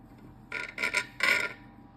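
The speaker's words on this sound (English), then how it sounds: "I'm gonna cut it first right here in the middle." Serrated bread knife sawing through a jelly roll, three short rasping strokes in quick succession, close and fairly quiet, with no talking.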